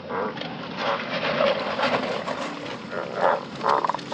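Banded bullfrogs croak after rain in a chorus of repeated, moderately near calls, with louder pulses rising near the end over a continuous outdoor hiss.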